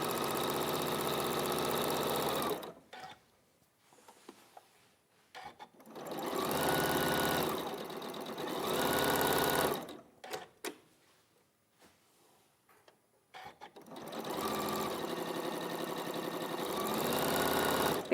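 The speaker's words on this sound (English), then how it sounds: "So we're going to sew those down." A sewing machine stitches down pieces of a quilt block in three long bursts, separated by short pauses with quiet handling sounds; each run is steady and close.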